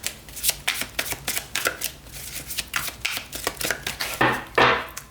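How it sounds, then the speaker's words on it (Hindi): Tarot cards shuffled by hand in a steady series of crisp riffling bursts, close and fairly loud, with a brighter, fuller flurry near the end and no talking. "शफल करते हैं कार्ड्स को मेष राशि के लिए।"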